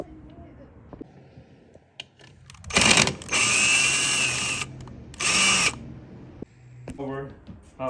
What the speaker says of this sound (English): Just using the drill.